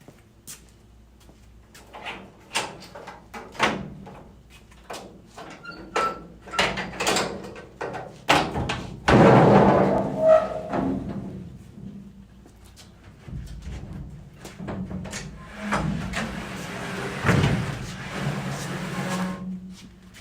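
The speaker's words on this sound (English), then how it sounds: "I'm just going to go ahead and pop the gate and show the back bed area first" Tailgate of a 1955 Chevy truck being opened: a run of metallic clunks, latch clicks and scraping rattles close by, with a louder burst of clanking midway, no talking.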